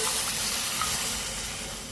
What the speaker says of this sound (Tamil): அதே கப்பால் அரை கப்பு தண்ணி ஊற்றிக்கிறேன்.